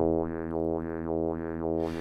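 A sustained synth tone whose filter is swept open and closed by a sine LFO in a smooth, regular wobble, about three slow cycles, steady and fairly loud with no talking.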